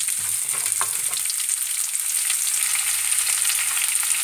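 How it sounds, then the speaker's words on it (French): An onion fries in oil with mustard seeds, giving a loud, continuous close-up hiss of sizzling, with a few faint clinks and stirring knocks in the first second. "Voilà, j'ajoute un oignon. Et je vais les dorer."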